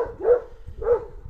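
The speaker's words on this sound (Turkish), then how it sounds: "Oraya bir daha köpek gelmiş, iki tane." Dog barking nearby on a village farm, two loud, distinct barks about half a second apart with no talking.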